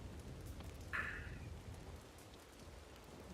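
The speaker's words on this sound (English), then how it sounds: "the rain is good for crops and the land" Steady rain falling in the Red Dead video game, a soft even hiss throughout with a brief brighter burst near the start.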